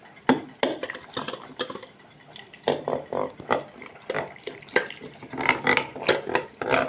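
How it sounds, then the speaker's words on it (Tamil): Cooked toor dal from a pressure cooker is mashed with a wooden masher in a steel pot for sambar, producing quick, irregular knocks, clatters and soft squelchy scraping close by. "இந்த மத்தாலாம் நல்லா மசிச்சுட்டேன்"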